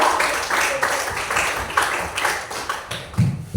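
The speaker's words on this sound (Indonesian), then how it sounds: "Berikan tepuk tangan kepada kelompok 2." Classmates clap for group 2 in a school classroom, a short burst of brisk, uneven hand claps close by, with a voice briefly audible near the end.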